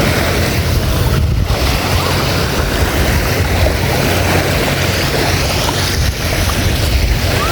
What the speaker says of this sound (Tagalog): Ngayon medyo may alon-alon na siya